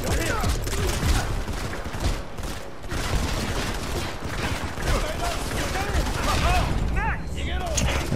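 Rapid gunfire bursts fill a frantic firefight in the mobile shooter Modern Combat 5: Blackout, with a nail gun and nail grenade in play, loud and continuous, with voices talking over the clatter.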